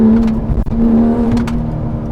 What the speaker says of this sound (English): it's orgasmic how loud and the engine just screams